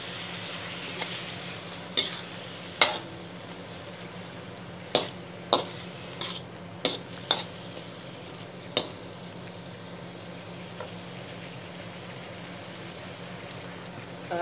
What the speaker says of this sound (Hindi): इसमें सबसे पहले हम ये करते हैं जी अदरक लहसुन का पेस्ट, इसको ऐड करते हैं।